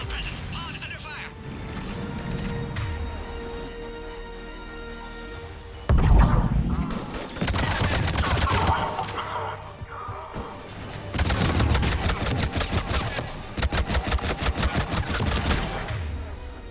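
Gunfire in a Mass Effect 3 battle as enemies attack a pod, rapid automatic bursts and crashes building to dense, loud rattling volleys near the end, with speech among the shots.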